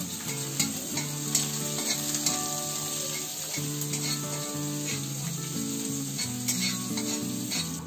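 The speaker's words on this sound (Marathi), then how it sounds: "आता पहिला याच्यामध्ये ना जिरं आणि लसूण टाकते." Four or five chopped garlic cloves and cumin seeds sizzle in hot oil, a bright steady hiss with scattered spits and a few soft clinks from stirring, with no talking.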